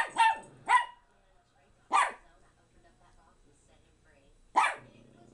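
A dog barks in short, loud bursts close by, two quick barks, then one more, then a last one after a pause, with quiet between them.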